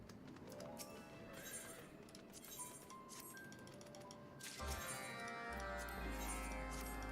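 A horse in Final Fantasy XIV whinnies and clops along, hooves and a neigh layered over ambient game music with light clinking accents, moderately loud throughout.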